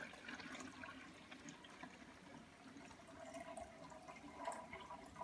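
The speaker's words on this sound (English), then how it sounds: "what I like to do is pour the water in" Water poured into a plastic deli cup setup for a homemade tarantula egg incubator, a steady continuous splashing and trickling stream that stays close and fairly quiet from start to finish.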